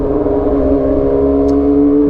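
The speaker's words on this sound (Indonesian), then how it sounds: "knalpot gue tuh Leovins SBK yang model suaranya tuh kayak Akrapovic lah." Motorcycle fitted with a Leovince SBK aftermarket exhaust idling and revving steadily, a loud, close, continuous engine drone with strong low harmonics and no talk.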